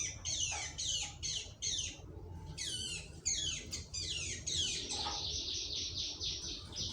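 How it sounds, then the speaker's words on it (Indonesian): Several male bar-winged prinias (ciblek) in a breeding setup chirp in quick, rapid high descending trills and repeated bursts, fairly near, with overlapping calls and a steady faint background hum. "Itu bapak-bapaknya itu lagi mungkin bercanda-canda lah sambil berkicau."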